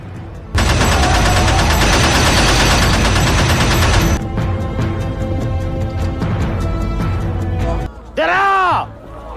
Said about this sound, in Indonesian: menakuti para santri dengan tembakan senjata mesinnya